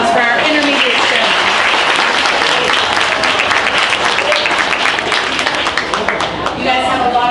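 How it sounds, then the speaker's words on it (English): Crowd at a youth rabbit show breaking into loud, sustained applause, dense clapping close and full throughout, with cheering voices rising over it. "Can we have a huge round of applause for our intermediate show?"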